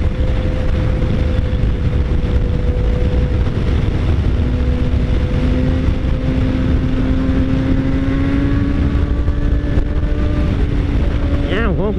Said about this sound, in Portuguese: É um ronco bonito essa moto